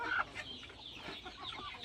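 Desi chickens, reared in confinement, cluck in a short bout, with one sharper call right at the start followed by softer, scattered clucks at moderate distance and no talking.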